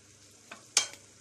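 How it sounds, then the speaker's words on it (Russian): Pumpkin pancakes fry in a pan with a soft background sizzle and two quick bursts of spatter as batter meets the hot surface. "И пеку дальше следующие оладьи."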